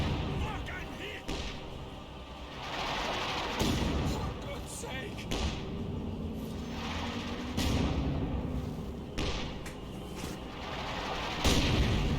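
Artillery barrage in the video game Company of Heroes 2: repeated heavy booms and thuds land at intervals throughout, mixed with game noise while a commentator talks over them.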